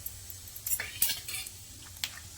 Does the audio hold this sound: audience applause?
no